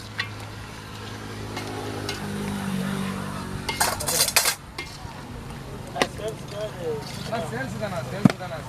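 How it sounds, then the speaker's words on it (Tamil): Pork curry being stirred in a pot in a village kitchen, with clinks and scrapes of a utensil against the metal, a brief loud burst of sizzling midway, and a low steady hum underneath; a person speaks at times. "மறுபடியும் இதை நல்லா கிளறி விடணும்."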